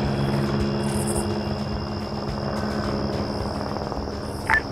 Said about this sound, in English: It's a armed helicopter with rockets,